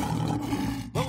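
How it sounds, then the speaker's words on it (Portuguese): A lion gives a loud, deep, sustained roar that fills the whole moment, with a brief break near the end before the rumbling continues. "É o som do leão!"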